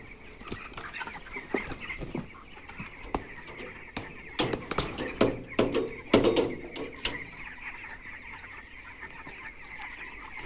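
Chickens clucking and calling in a Tamil work-tour setting, a series of sharp, irregular clucks and squawks spread across the clip, moderately close and loudest in the middle, over a low steady background hum.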